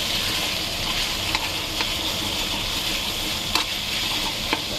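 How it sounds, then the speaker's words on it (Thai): Pork and holy basil stir-frying in a hot pan for pad kaprao, a steady close sizzle broken by a few sharp scrapes and clinks of the spatula, with no talking. "ยายจะผัดกะเพรากะเพราหมูค่ะ"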